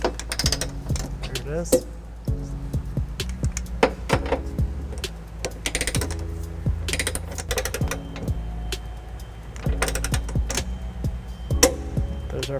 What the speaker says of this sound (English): We're using a 18mm socket to tighten down all these nuts.